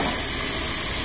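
Garlic hits sautéed, softened onion in a hot pan while cooking eggplant with ground meat, giving a loud, close, continuous sizzle and hiss.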